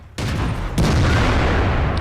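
Tank cannon fire in World of Tanks while facing a Premium IS-6: two loud, booming shots, the first near the start and the second under a second later, each leaving a dense rumbling tail that runs to the end of the clip.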